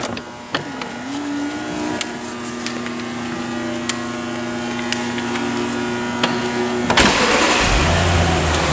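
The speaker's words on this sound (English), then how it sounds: "I'm going to turn the engine on so you can see hear how that sounds." A 2004 Audi A8L sedan engine cranks and catches, then idles with a steady hum and a few light clicks before a louder surge near the end, heard close with no talking.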